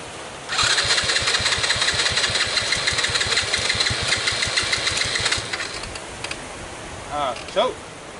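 Small 125cc motorbike engine running, a loud buzzing drone for about five seconds that then drops away, with a voice briefly at the end.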